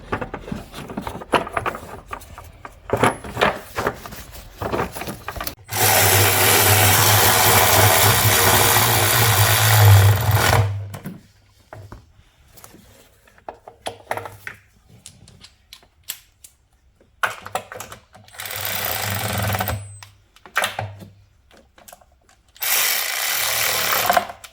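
Power tool work on the intake manifold of a 2015 Mercedes C200 W205 with a 2.0L engine: two long, steady whirring bursts near the start and end, with brief clicks and ratchet-like taps between them.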